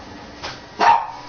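A pet dog gives two quick barks indoors, a short soft one followed by a louder, fuller bark, close by with no talk over it.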